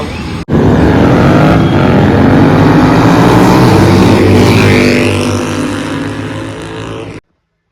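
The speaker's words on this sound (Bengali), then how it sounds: "এই স্টেট বাসে করে যাওয়ার মজাই একটা আলাদা খুব স্পিডে যায় এই বাস" A government state bus speeds along a road, its engine and wind noise forming a loud, steady rumbling roar that holds throughout before cutting off abruptly.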